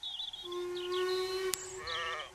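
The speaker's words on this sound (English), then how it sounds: "Look at those sheep. They are on the track," A sheep bleats with a long, wavering call, followed by a sharp click and a second shorter bleat, heard clearly and fairly close, near a stopped steam train.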